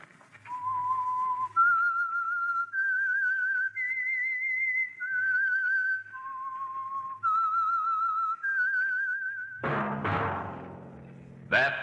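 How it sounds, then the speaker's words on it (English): A lone whistler carries the slow, wavering theme tune of the 1940s CBS radio mystery program The Whistler, tone held and gliding between about eight sustained notes, followed by a brief burst of orchestral music. "That whistle is your signal for the Signal Oil Program, The Whistler."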